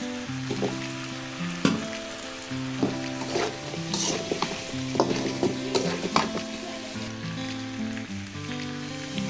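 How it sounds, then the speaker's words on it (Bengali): New potatoes fry in a pan with chicken curry, giving a close, continuous sizzle broken by repeated scraping and clattering strokes of a stirring spoon, with no voices. "আলু দিয়ে দিব, নতুন আলু।"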